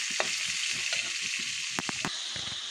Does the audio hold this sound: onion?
yes